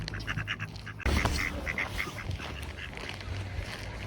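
Several ducks quack in scattered bursts over a steady rural German outdoor background, with a louder cluster of calls partway through.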